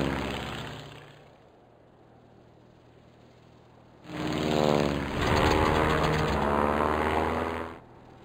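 WWI biplane engines in Sid Meier's Ace Patrol drone with a steady propeller buzz, quieter at first, then swelling loud and close as a plane roars past before cutting off near the end.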